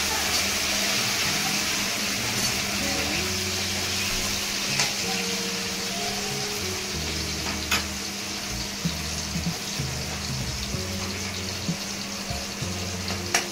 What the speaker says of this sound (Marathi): आता टाकते टमाटर, मस्त कांदा लगे तळल्या गेला लाल